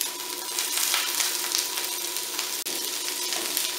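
Kale, onions and garlic sizzle steadily in a pan, a dense, continuous frying hiss with faint stirring and a brief clatter near the end, no voices.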